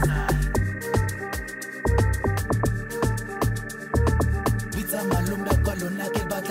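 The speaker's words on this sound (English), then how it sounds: "So let's get to the log drum." Amapiano log drum programmed in FL Studio, with deep, booming pitched hits in a steady syncopated pattern, playing loud and up front over piano chords, shakers and hi-hats in a full dance groove with no voices.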